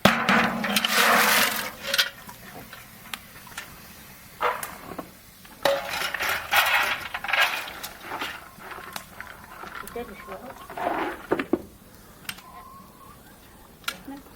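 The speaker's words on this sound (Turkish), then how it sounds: "İlk nohutu mu döküyorum hacı anne?" Dry chickpeas poured into a pot for making aşure, heard as a few bursts of dry rattling and ticking, fairly close, with quiet pauses between pours and people talking around them.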